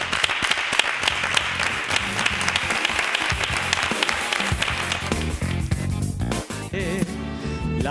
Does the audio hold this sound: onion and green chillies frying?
no